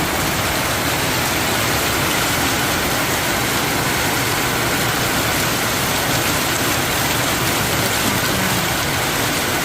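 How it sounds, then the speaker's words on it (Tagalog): Heavy rain pours down in a dense, steady hiss with no breaks, close and loud throughout. "Ano tayo gagala nito kung apakalakas ang ulan?"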